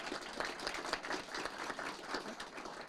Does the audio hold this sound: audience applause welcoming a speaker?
yes